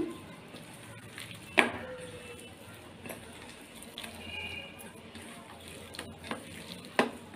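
Soft scraping and stirring of a thick chicken biryani mixture with cornflour, with a few sharp clinks of a spoon against the bowl and faint background hiss, quiet and close.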